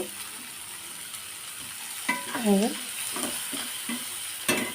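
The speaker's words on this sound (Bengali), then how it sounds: "এই যে চিংড়ি মাছটা আমি এখন দিয়ে দেব দিয়ে ভালো করে কষিয়ে নেব" Prawns stir-fried in a pan sizzle steadily under repeated scraping strokes of a spatula, with a few squeaky scrapes and a sharp knock near the end; nobody talks.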